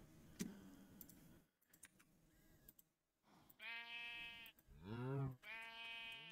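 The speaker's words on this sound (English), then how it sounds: "get some animals in here. So cows and sheep." Sheep in Minecraft bleat several times in quick succession in the latter half, drawn-out wavering cries that follow a few faint ticks and clicks in an otherwise quiet scene.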